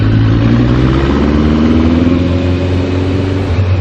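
Suzuki GSX1400 motorcycle engine running steadily while riding, a continuous loud mid-pitched drone with a slowly rising tone and constant wind rush throughout.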